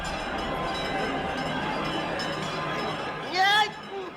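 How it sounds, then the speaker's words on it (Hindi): A dense crowd murmurs people's prayers from around the world, forming a continuous, overlapping wash of many voices, with a brief brighter chime-like swell near the end. "दुआएं हैं, प्रार्थनाएं हैं जो दुनिया भर के लोग मुझसे मांग रहे हैं।"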